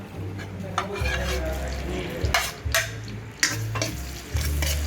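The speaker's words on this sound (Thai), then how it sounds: "ก็เจียวกระเทียมเอากระเทียมลงเลยครับ" Garlic sizzles steadily in hot oil in a wok, with a spatula scraping and clanking against the pan in irregular strokes.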